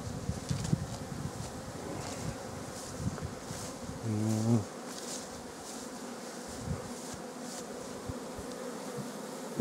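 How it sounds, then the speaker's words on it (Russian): Honeybees fly around a hive with a round upper entrance, full of drones, at a rural homestead in June; a steady, close swarm of buzzing runs throughout, swelling briefly into a louder hum midway, with no talking. "как пчелки летают"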